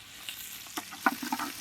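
Mustard seeds and curry leaves sizzle in hot coconut oil, a soft frying hiss broken by a few sharp pops and crackles over a brief moment.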